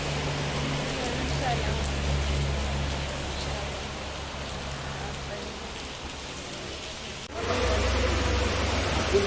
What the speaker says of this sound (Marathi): पडतोय म्हणजे चालू झालाय पाऊस कसारापासून